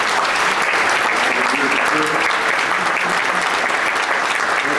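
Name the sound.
audience applause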